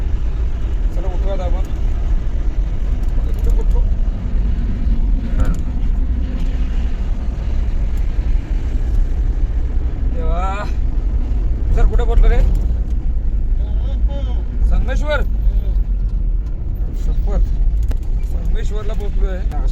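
A vehicle cruises along the road from Mumbai to Pawas with a steady low rumble of engine and tyres throughout, while people talk over it inside the cabin.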